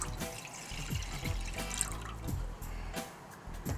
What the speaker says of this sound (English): In a pan, add a liter of water.